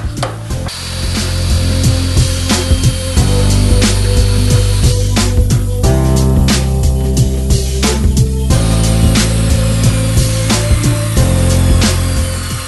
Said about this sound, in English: I'm gonna use some more oak, just a 1/4 inch thick, and I have to rip it down to size